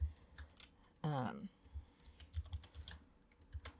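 Someone types text on a computer keyboard, producing close, quick clicking keystrokes in uneven bursts, with a brief vocal sound early on.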